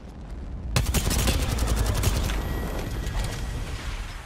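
Gunfire in Apex Legends breaks out suddenly after a short lull. It is a loud, rapid automatic burst of closely spaced shots that rattles on for about two seconds, then trails off into lingering echo and ambient noise.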